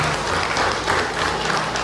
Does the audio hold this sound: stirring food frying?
no